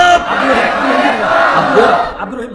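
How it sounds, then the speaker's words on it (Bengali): A large crowd at a packed street rally in Sirajganj roars a loud takbir chant in unison, a sustained mass of voices shouting together close by for a couple of seconds. "জোরে একটা তাকবীর হবে"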